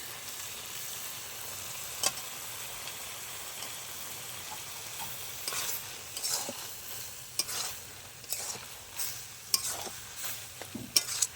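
A spoon stirs freshly grated coconut into boiled ash gourd curry in a hot pan. Soft scraping and clinking come at irregular intervals over a faint continuous sizzle, close and quiet, with no talking.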